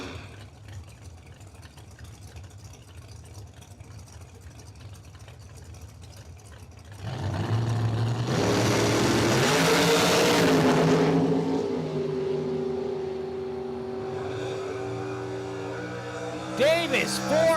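A nitrous-injected Boss Mustang with a Rare and Morrison engine launches down a drag strip, its engine swelling from a distant idle into a loud, sustained roar that fades as it pulls away.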